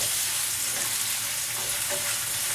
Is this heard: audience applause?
no